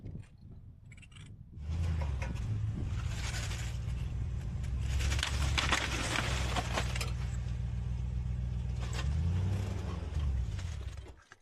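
A vehicle creeps slowly onto leveling blocks on rocky ground, a low engine drone rising with gravelly crunching and scraping under the tires, faint and steady before easing off.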